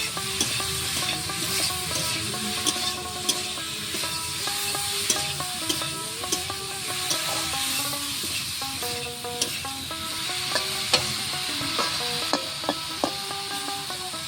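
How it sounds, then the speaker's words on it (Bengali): Ripe pointed gourd paste with turmeric is stirred in a frying pan, with a steady close sizzle and a rhythmic series of spatula scrapes and light clicks against the metal throughout. No one talks. "এবার নেড়ে নেবো।"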